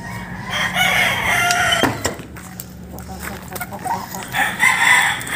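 Close silkie hen clucking and murmuring in a coop, with a few louder calls and some rustling through the short stretch.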